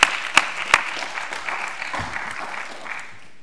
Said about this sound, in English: Let's give a warm round of applause for Belinda